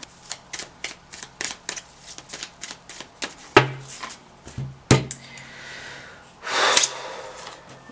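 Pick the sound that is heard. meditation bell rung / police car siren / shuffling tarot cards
shuffling tarot cards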